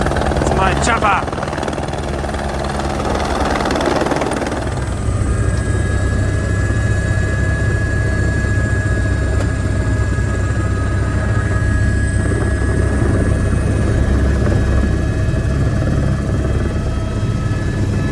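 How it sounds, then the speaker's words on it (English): A helicopter near Everest Base Camp, heard as a loud, continuous rotor and engine roar from close by, with a louder burst at the start, and people talking over it. "It's my chopper!"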